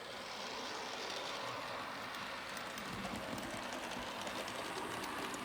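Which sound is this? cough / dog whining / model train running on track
model train running on track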